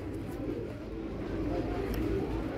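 A pigeon coos with low, soft, continuous murmuring, close by and steady, with no talk over it.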